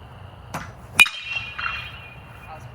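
An aluminium-alloy 44 Pro BBCOR baseball bat striking a ball, a single sharp metallic ping with a ringing tail, preceded by a softer knock against a quiet background.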